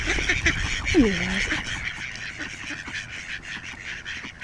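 Ducks honking and quacking outdoors, one clear nasal call standing out early against a steady background of outdoor noise, while a person speaks briefly.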